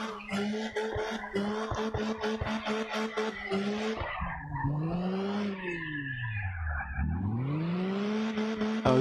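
A drift car in CarX Drift Racing Online sliding through corners, its engine revving and gliding in pitch while tires squeal and skid, loud and close throughout, with no talk.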